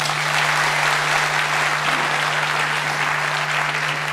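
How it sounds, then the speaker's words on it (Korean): Applause at a citizens' public hearing for the founding of Anyang FC, a hall of people clapping steadily and fairly loudly, with a constant low electrical hum running under it. "우리 김정남 구청장님께 다시 한번 큰 박수 부탁드리겠습니다"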